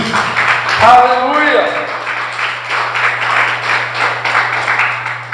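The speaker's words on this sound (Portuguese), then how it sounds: "Você pode dar mais um aplauso ao Senhor Jesus?" Church congregation breaks into applause for Jesus, a broad wash of many hands clapping that continues steadily after one voice cries out, with a low hum underneath.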